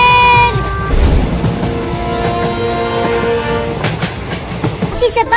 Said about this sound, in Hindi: एक और ट्रेन आ रही है